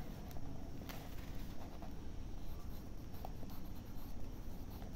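Faint, close scratching of a pen writing an answer by hand on paper, a soft continuous rustle over a low background hiss, with no talking.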